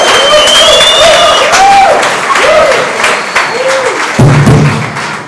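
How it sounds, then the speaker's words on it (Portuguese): A crowd claps steadily throughout, with loud, dense applause and a few louder thuds near the end. "Um aplauso para eles."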